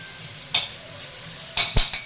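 Onions cook in a pan while a utensil stirs them, a soft sizzle running underneath with a few distinct scraping strokes near the end.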